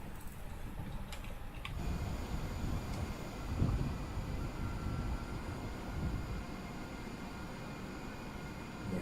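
An Austrian Airbus A320neo being pushed back from the gate at Prague in Microsoft Flight Simulator, heard as a steady low engine and ground rumble with a brief louder swell midway and no voices.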